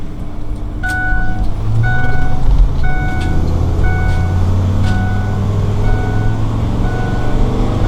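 Regular two-toned warning beeps, evenly spaced about once a second, sound over the loud engine rumble and road noise of a 2010 Winnebago Sightseer 37L Class A gas motorhome.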